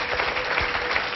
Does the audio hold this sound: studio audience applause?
yes